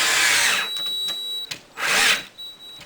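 A power drill drives an anchor into a wall in two bursts of high whirring, the second ending abruptly as the motor stops.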